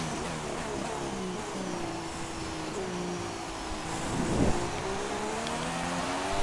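A race car engine runs steadily at moderate volume, with a slight swell in revs around the middle, as the driver works to warm up cold, worn tyres on track.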